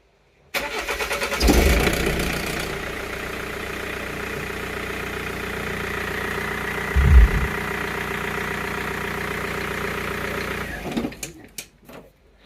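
A 2000 BMW 3 Series E46 320d 2.0 diesel cranks briefly, catches, and settles into a steady, close diesel idle with a clattery rumble, a small rev bump midway, then shuts off, after a fuel filter change.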